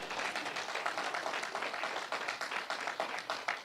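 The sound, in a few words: congregation applause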